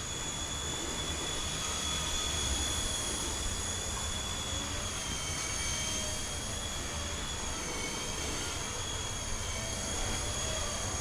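A small Blade Nano S3 RC helicopter flying indoors in an atrium, its rotor whining at a steady high pitch with a constant buzzing hum, close by and unbroken, with no talking.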